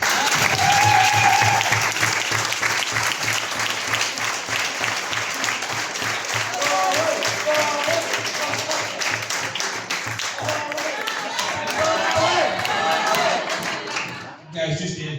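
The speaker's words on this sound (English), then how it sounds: "Can we have one last round of applause for all you boys over?" Sustained applause from a crowd at a rugby club's player of the year awards night, dense steady clapping filling the room for about fifteen seconds before tapering off near the end.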